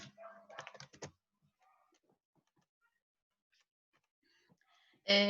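Quick typing on a computer keyboard, a short cluster of key clicks up front, then sparse faint taps and a louder knock at the end.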